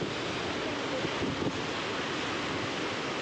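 Floodwater rising and rushing near a bus stand in Nandalur, a steady, dense broadband roar of churning water that stays constant and close throughout, with no voices.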